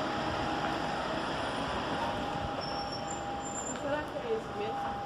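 A train waits at Aigle station in the Swiss Alps, giving off a steady low rumble and hum with a faint constant whine, heard close and continuous with a few soft clanks near the end.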